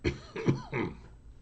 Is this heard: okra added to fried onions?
no